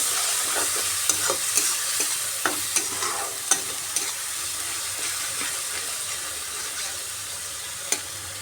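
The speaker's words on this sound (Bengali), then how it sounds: "পেঁয়াজের পেস্টটাকে ভালো করে কষিয়ে নিতে হবে" Onion paste sizzles steadily in hot oil in a pan, heard up close as a constant frying hiss punctuated by regular light taps and scrapes of a stirring spatula, with no one speaking.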